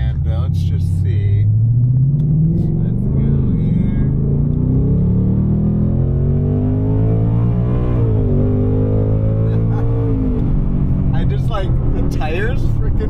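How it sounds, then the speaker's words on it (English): A 2024 Ford Mustang GT in drag strip mode accelerates hard, its deep engine rumble loud and close as the tires squeal, with revs climbing and shifting across the pull while a voice talks over it. "Tires freaking squealed right next to that guy's truck."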